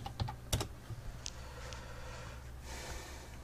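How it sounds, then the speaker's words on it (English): Computer keyboard typed on briefly, a few soft, close key clicks clustered at the start before tapering into quiet room noise. "just let's do a Google search here. Just type in Steven Anderson"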